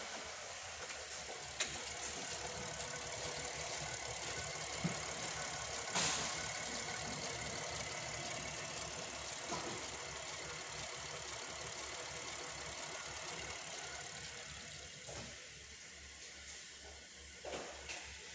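A 2011 Chevrolet Traverse LS engine idles in drive with a steady, even hum and faint hiss, broken by a few soft clicks and thumps.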